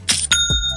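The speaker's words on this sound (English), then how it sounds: "That's the sound of another sale on Shopify." Shopify's sale notification chime: two bright bell-like ding tones in quick succession, ringing clear and close with a short shimmering decay and no voices.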